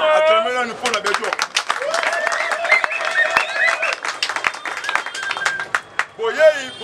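Audience applause at a public event in Kinshasa; steady clapping from a crowd runs throughout, beneath loud amplified talk over a microphone.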